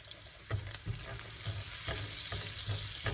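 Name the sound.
rib eye steak frying in a pan with garlic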